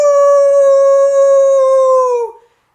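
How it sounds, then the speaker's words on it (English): A single long, steady wolf howl in a sound effect, loud and close, holding one pitch before dipping and fading out abruptly, with no other sounds around it. "The wolf jumped up and ran howling out the door."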